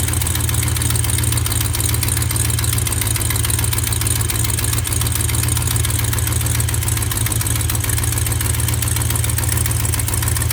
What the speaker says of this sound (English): I think I still hear an exhaust leak